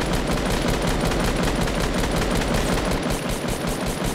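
Rapid automatic gunfire from a Fortnite match rattles on without a break, dense and loud, with no voices over it.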